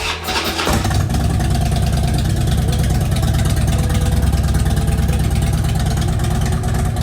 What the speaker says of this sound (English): Alright, up on the start buttons up there.